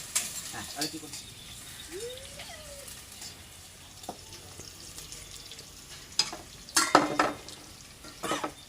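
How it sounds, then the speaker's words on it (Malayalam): Chopped shallots fry and sizzle in a pan while being stirred, with scraping spoon strokes and clinks of utensil against the pan throughout, and a brief voice in the background. "ചെറിയ ഉള്ളി മുറിച്ചത് ഇളക്കി കൊണ്ടിരിക്കും"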